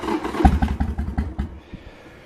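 A Harley-Davidson motorcycle engine with a carburettor accelerator pump, started for the first time in six months, sputters into a quick run of uneven firing pulses that stumble and die away after a second or so.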